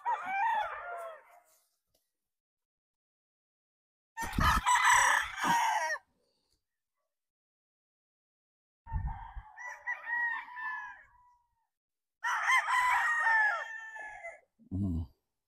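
A Boston Roundhead cross cockerel about six months old crows several times, loud, close bursts separated by silent gaps, with a low grunting note near the end.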